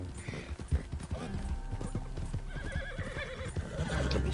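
A horse whinnies and its hooves clip-clop at a steady pace, close and clear, the neigh rising over the rhythmic hoofbeats across a few seconds.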